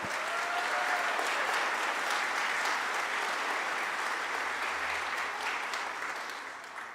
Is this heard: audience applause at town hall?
yes